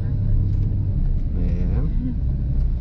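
Car pulling away and accelerating in third gear along a long city block during a driving lesson in Londrina, the engine rumbling steadily and close inside the cabin, with someone briefly speaking over it.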